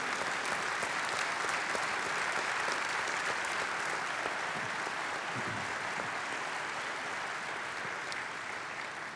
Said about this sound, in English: Could we give a round of applause and thank our Kenyan family for coming?